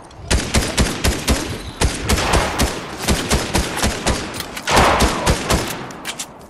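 Rapid bursts of gunfire from a first-person shooter video game crack out close and loud, with dense overlapping automatic shots and a heavier blast partway through, continuing without letup.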